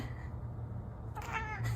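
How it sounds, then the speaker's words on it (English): A cat gives a short, close meow after a stretch of quiet room hum, the call rising clearly and briefly near the end. "That cat is so adorable."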